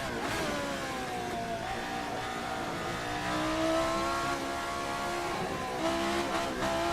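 An RSS Formula 79 race car engine in a racing game revs hard and continuously, its pitch climbing and dipping through the gears, loud and close, with no voices.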